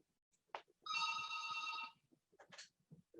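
A telephone bell rings once in a single sustained burst of about a second at a seminar, with soft, clipped voice fragments and faint rustles before and after.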